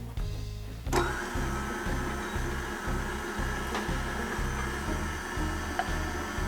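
A stand mixer kneads bread dough for garlic cheese bread, giving a steady, fairly loud motor drone with a regular rhythmic thump from the dough, after a brief knock near the start.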